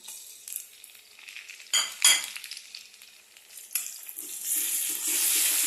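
Oil sizzles and crackles in a pan as onion fries with garlic and onion paste, with a few sharp scraping stirs of a utensil, the frying hiss swelling louder toward the end.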